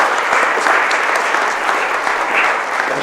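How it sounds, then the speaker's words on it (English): Loud, sustained applause from an audience at a Scotland Malawi Partnership gathering, honouring Malawi's Honorary Consul to Scotland; dense, steady clapping fills the whole stretch without a break. "Peter, a big round of applause for Peter"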